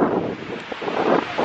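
Strong wind buffets the microphone on a wide beach in Riga, Latvia, a steady roaring rush with gusty swells and no voices.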